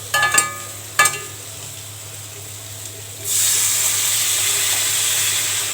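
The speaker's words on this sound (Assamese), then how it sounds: "বিলাহীখিনি গলিছে ধুনীয়াকৈ আৰু এতিয়া অকণ পানী দি দিওঁ" Tomatoes for a dry fish curry fry and get stirred in a pan with a few scraping clinks, then water is poured in and a loud, steady hiss and sizzle fills the rest.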